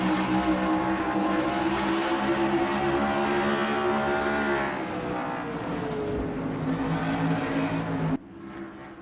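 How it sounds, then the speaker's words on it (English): Race car engine from a stock-car racing video game, heard from a roof-mounted camera view at a New Hampshire race with a new engine package, a loud steady drone with layered harmonics that drops off abruptly near the end. "Listen to that sound of that engine."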